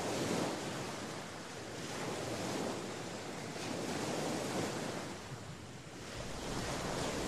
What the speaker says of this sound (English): That was a long walk along the Pacific Ocean beach.